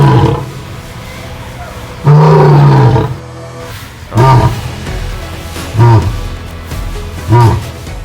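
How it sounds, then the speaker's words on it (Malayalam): An Asiatic lion from the Gir forest roars at Thrissur Zoo, five deep, loud grunting bursts spaced a second or two apart, heard up close. "ഞാൻ ആദ്യമായിട്ടാണ് സിംഹത്തിൻ്റെ ഗർജന ഇത്രയും അടുത്തുനിന്ന് കേൾക്കുന്നത്"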